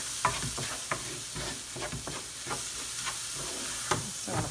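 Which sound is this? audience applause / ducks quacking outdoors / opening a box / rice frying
rice frying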